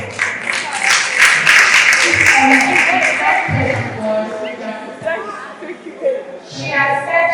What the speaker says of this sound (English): Please come in and round of applause.